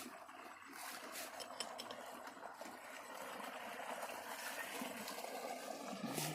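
Water rushes through an opened gate into a rice paddy field, a continuous broad hiss and gurgle that holds steady and grows slightly stronger, fairly faint and heard at close range.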